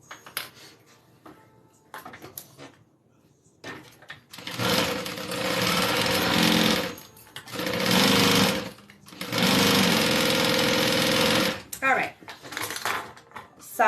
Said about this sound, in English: Sides are sewn.